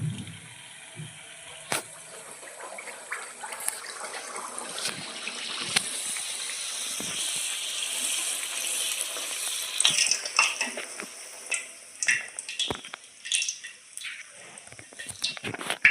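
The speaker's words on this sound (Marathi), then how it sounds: "इकडे कढईमध्ये तेल तापवलेलं आहे याच्यामध्ये मी या पुऱ्या सोलत आहे" Spinach puris go into hot oil in a kadhai, and a broad hissing sizzle swells and fades over several seconds, broken by light clinks and splashes. A faint voice sits low in the background.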